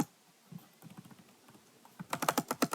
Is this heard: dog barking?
no